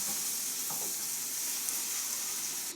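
Peas mashed in a hot pan on the stove, a steady close sizzle and hiss with faint scraping and stirring throughout.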